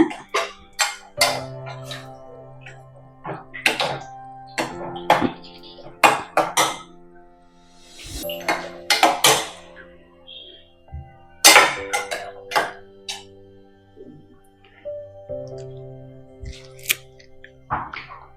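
Bottle gourd being stirred in a metal cooking pot: repeated clanking and scraping of a ladle against the pot in irregular bursts, close and fairly loud, with brief pauses between strokes.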